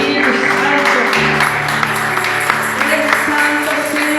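Church congregation at a Spanish-language service clapping together to welcome the Holy Spirit, a loud continuous wash of applause mixed with sustained chord tones and some voices.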